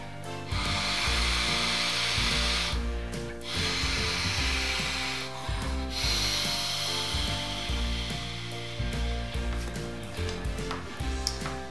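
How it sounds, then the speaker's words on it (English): Giant arm pump inflating a spacesuit arm, a loud, continuous rushing blow of air with a rapid rhythmic mechanical thumping underneath and a few brief breaks in the flow, close by and with no talking. "I thought I'd show you with the help of this giant arm pump."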